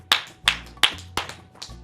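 Five crisp flamenco palmas claps, fingers striking the palm in a steady, evenly spaced rhythm, heard close and alone. Each clap is sharp, and the last ones are slightly softer.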